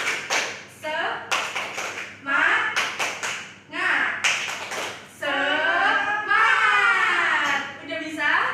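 A classroom does a 'tepuk semangat' rhythmic clap routine, with bursts of quick, sharp group claps alternating with children's chanting and a teacher's voice leading the pattern.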